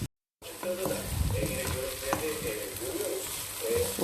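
Meatballs for a Bulgarian meatball soup browning in a hot pan, a steady close sizzle and crackle with occasional stirring scrapes throughout, no voices.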